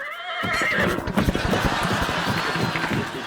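A horse neighs loudly in a comedy show setting, a rising whinny followed by clip-clop hooves and crowd noise, with voices talking underneath.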